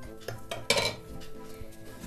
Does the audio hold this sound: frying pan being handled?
yes